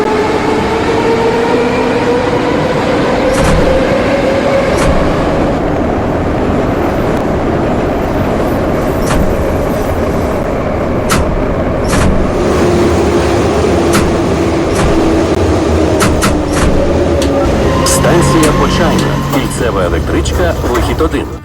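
A Kyiv metro train runs along line M2 in the Kyivmetromasters game, with a steady loud rumble and rising and falling motor whine throughout and occasional clicks over the track noise.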